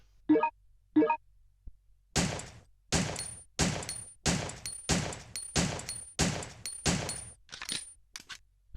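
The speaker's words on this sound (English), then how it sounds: "that is definitely the Nambu Type 14. Interesting pistol. Alright, so let's test it out real quick" A Nambu Type 14 pistol firing in the Resident Evil Survivor video game: two short sounds, then about eleven sharp shots in a steady, measured rhythm, loud and close, with a faint tone under some shots.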